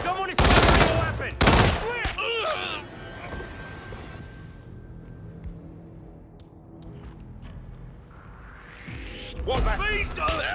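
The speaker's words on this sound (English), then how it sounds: "Someone is firing a weapon!" Sharp bursts of gunfire from the Hitman 3 video game crack loudly near the start, fade into a quieter stretch, then return in a fresh volley at the end, with voices talking over the shots.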